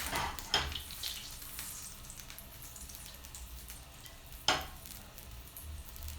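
Butter sizzles and browns in a pan on a home stove, a soft, steady frying hiss heard up close with two brief louder clatters of utensil or pan.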